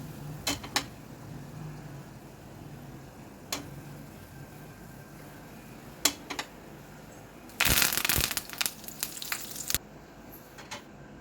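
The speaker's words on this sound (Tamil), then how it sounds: "நல்லா பொன்னிறமாக மாறின பிறகு கருவேப்பிலை சேர்த்துக்கலாம்." Curry leaves frying in oil, a quiet background sizzle broken by sharp scattered pops and ticks, then a loud crackling spatter burst lasting about two seconds as the leaves hit the oil.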